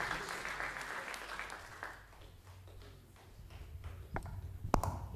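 A church congregation applauds to acclaim the Lord during a service with a visiting pastor: about two seconds of dense clapping that fades into a quieter room with a few scattered taps.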